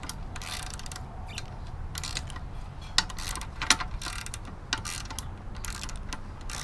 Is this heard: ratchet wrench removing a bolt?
yes